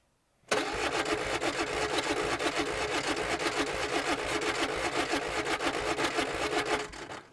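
A Ford 105E barn-find engine, left sitting for 20 years, cranks on the starter in a close, continuous whirring, rhythmic churn that begins abruptly and runs for about seven seconds before cutting off, without catching.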